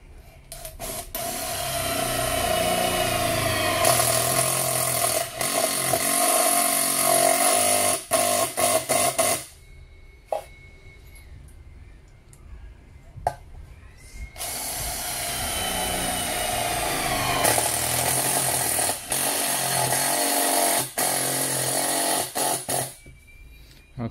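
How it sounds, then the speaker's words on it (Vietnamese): Makita CLX224S cordless drill boring into metal roofing sheet, loud whining motor bursts with sharp stops and clicks, a quieter pause in the middle before drilling resumes. "Mình sẽ thử chức năng khoan bắn tôn"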